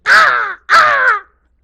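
A storyteller's voice imitates a crow's caw, two loud, harsh, drawn-out calls in quick succession, close and clear, followed by silence.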